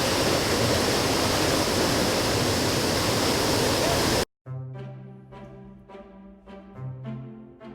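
Waterfall in Kieni Forest, a loud, steady rush of falling water that stops abruptly partway through, followed by quieter background sounds.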